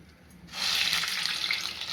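Oil, about two spoons, hits a hot, dry kadhai for a soybean masala and sets off a sudden, steady bright hiss. The hiss starts after half a second of quiet and holds close and loud to the end, with no talk.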